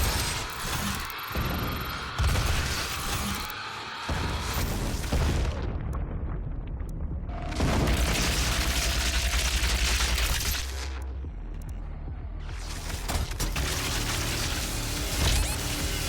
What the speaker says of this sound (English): This rocket launcher, also not doing much for us.